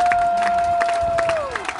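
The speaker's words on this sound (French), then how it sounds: "Nous l'accueillons sous les cris de joie et des applaudissements." An outdoor crowd at a Women's Day celebration in Grand Kasaï cheers and applauds to welcome First Lady Denise Nyakeru Tshisekedi. A shrill, sustained, high cry rides over the din and then slides downward near the end.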